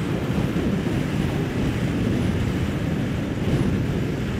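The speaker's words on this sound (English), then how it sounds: "Wow, it's windy." Strong wind buffets a rider on a 2023 Kawasaki Ninja 650 KRT ABS during a winter highway ride, a loud, steady broadband roar of wind noise over the microphone with no pauses.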